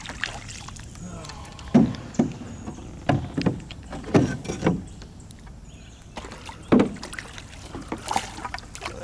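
Water laps and splashes against a moving boat on a river in uneven bursts, with wind noise and occasional knocks close by.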